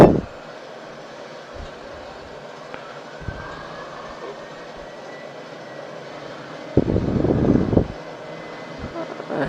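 Airliner engines in a flight simulator hum steadily at takeoff thrust, with a louder surge late on and occasional thumps, heard under some talking.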